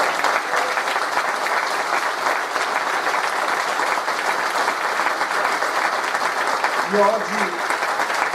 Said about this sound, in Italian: vorrei partire con un applauso forte per tutti i ragazzi di Indipendenza Veneta